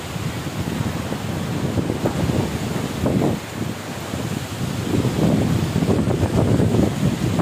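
Strong typhoon wind blasts steadily across the microphone in waves of gusting roar and rumble, with no voices.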